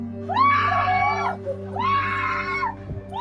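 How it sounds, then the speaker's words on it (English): A grieving woman shrieks over her husband's body amid mass killings in Tanzania, two long, high, wavering wails separated by a brief gasp, loud and close over a steady low hum. "The man's wife shrieks in grief over his lifeless body."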